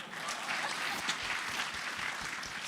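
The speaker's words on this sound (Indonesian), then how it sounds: "apa gak tepuk-tepuk tangan dulu nih?" Steady, dense applause from a festival audience at a mindfulness talk fills the room at an even level throughout, with no voices rising above it.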